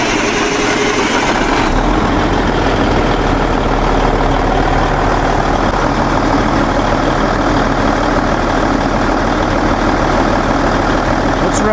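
A Cummins N14 diesel engine being checked for fuel restrictions runs loud and steady at idle, a dense low rumble with knocking texture continuing unbroken throughout, close to the listener.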